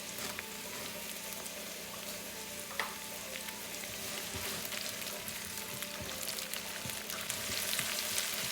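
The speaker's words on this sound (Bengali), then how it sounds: "বাগারের জন্য পেঁয়াজ কুচি, তেলটা গরম হইলে রসুন আর 2টা শুকনা মরিচ" Chopped onion, garlic and two dried red chilies fry in hot oil for a tempering, giving a steady, close, crackling sizzle that continues evenly throughout with no one talking.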